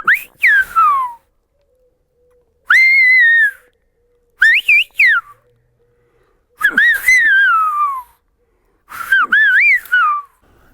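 Gran Canaria's traditional whistled language: five loud, close whistled phrases with rising and falling gliding pitches, each lasting about a second and separated by silent pauses.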